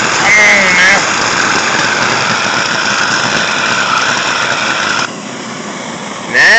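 A homemade gas forge burner roars steadily after the gas is turned up, a dense broadband rush that dips briefly near the end before surging again, with someone talking over it.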